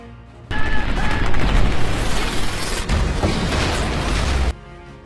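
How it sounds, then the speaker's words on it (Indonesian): Film gunfire from an alien-invasion battle scene erupts suddenly into a dense, loud barrage of rapid shots and booming blasts that carries on for several seconds and then cuts off abruptly. "Kearns menyadari hal itu dan langsung menembak alien tersebut."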